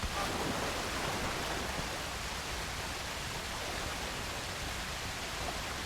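A waterfall near a cave in an open-world Western game gives a steady, soft, even rush of falling water, faint and unbroken from start to finish with no other sounds.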